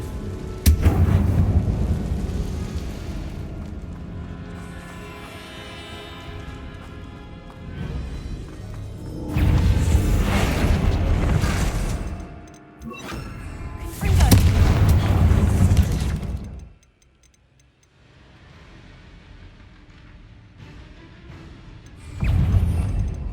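Spell blasts from Confringo and Bombarda in Hogwarts Legacy boom and crash in loud, rumbling bursts separated by quieter stretches, with a voice shouting over the action.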